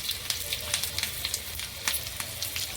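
Cumin seeds and green chillies crackle and sizzle in hot oil, a steady close frying hiss broken by frequent sharp pops and spits.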